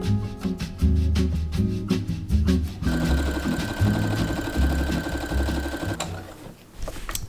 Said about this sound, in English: It feels so good to be sewing again.